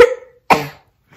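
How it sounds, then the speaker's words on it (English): A person coughs twice, with a short sharp cough followed about half a second later by a second harsher cough, close and fairly loud, with a brief faint noise at the end. "Why'd you have to cut to me at the coughing part?"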